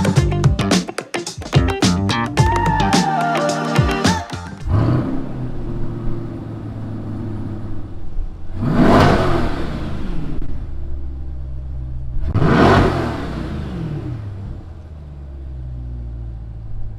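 A 2022 Corvette C8 engine sits at a low idle after some busy opening sound, then revs up sharply twice. Each rise and fall is strong and near, and there is no speech.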